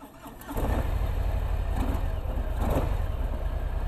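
A 2018 Harley-Davidson Breakout motorcycle starts up, a brief crank giving way to a deep, steady, rumbling idle that carries on close and loud, with no talking over it.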